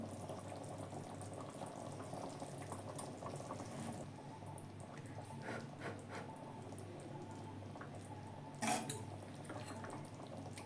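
Chicken soup bubbling in a pot, a soft continuous low boil with faint bubbling texture throughout and a brief louder clink of a utensil near the end.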